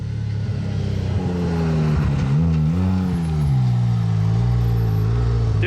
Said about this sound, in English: A little bit of burble on the downshifts.